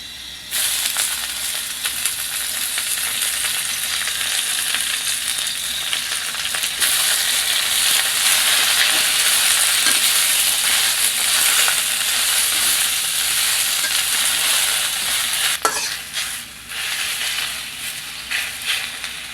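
Chopped taro leaves fry in a pan with a steady, loud crackling sizzle and hiss that runs almost unbroken, shifting slightly as the leaves are stirred.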